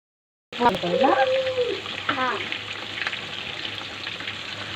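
Chicken roast pieces fry in oil with ground spice paste, dried chillies and lemon, giving a steady sizzle that begins abruptly after a brief silence, with a few clinks from stirring and faint background voices.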